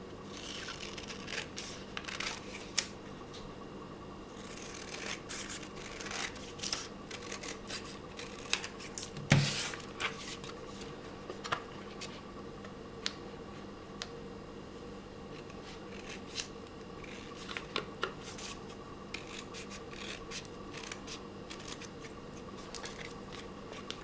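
Scissors trimming paper for a craft pocket tag, a scattered series of quiet, close snips and paper rustles with a few sharper cuts against a faint background hum.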